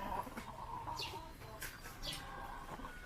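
Fighting cocks cluck and call at feeding time, a few short clucks and squawks scattered over quiet farmyard background.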